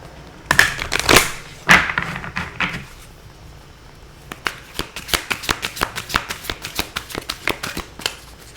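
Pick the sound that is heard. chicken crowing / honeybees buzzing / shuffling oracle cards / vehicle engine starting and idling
shuffling oracle cards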